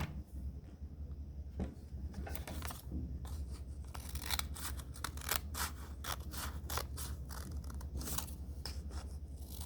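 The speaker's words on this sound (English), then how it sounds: "then I'm going to cut them on the line" Scissors cut along a marked line with quick, rhythmic snips that come close and quietly, one after another, over a faint steady background hum.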